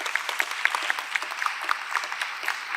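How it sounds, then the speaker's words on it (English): An audience at a tax panel event gives a speaker a round of applause: a short, moderately faint burst of steady, scattered clapping from a small crowd. "Let's give him a round of applause."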